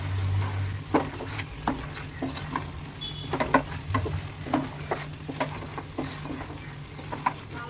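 Pork cooks down in a pan with saborang leaves, a soft sizzle running beneath repeated scrapes and clicks of a spoon stirring at an irregular pace, close by, with a low hum underneath and no voices.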